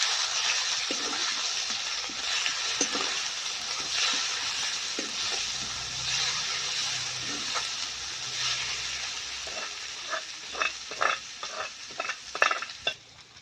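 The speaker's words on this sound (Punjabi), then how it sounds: "ਹੁਣ ਆਪਾਂ ਇਹਦੇ ਵਿੱਚ ਪਾ ਦਾਂਗੇ ਜੀ ਕੁੱਟੇ ਹੋਏ ਆਪਣੇ ਪਿਆਜ਼ ਤੇ ਹਰੀ ਮਿਰਚ" Crushed onion and green chili fry with ginger and garlic in a pan for a winter curry, a soft steady sizzle under stirring clinks and scrapes that grow busier toward the end.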